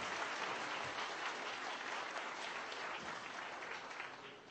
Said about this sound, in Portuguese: Vamos começar o dia com uma salva de palmas, gente, para levantar o astral.